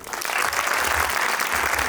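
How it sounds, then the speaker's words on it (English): Parents at a school annual day give teachers and children a big round of applause, a dense, steady clapping that fills the hall without pause. "give a big round of applause to all the teachers and our kids"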